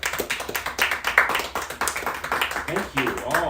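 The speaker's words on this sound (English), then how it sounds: "Applause first, please." Audience clapping at a poetry reading in Barb's Books, a short burst of scattered hand claps mixed with voices talking nearby.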